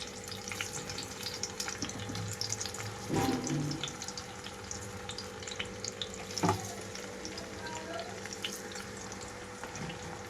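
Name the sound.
raw mango pieces and tomato frying in a pan on low flame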